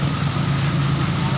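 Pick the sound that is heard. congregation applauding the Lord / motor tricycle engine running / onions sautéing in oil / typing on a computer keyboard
motor tricycle engine running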